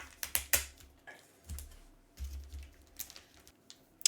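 Adhesive tape peeled off a bundle of plastic comic book bags, giving close, crackly bursts and sharp ticks in an irregular rhythm with quiet gaps between them and no talking.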